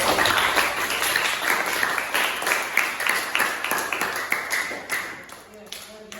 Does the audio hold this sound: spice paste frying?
no